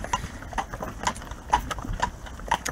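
Hooves of Viennese fiaker carriage horses clip-clop in a steady, even walking rhythm, roughly two strikes per second, moderately close against light background noise in winter.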